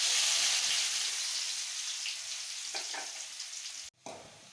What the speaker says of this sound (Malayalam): ഇനി സവാള ഇട്ട് വറുത്തെടുക്കാം.